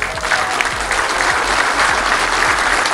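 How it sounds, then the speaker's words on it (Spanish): An audience applauds the engineers of the companies present, a steady dense wash of clapping that stays loud and even from start to finish. "Un aplauso para ellos"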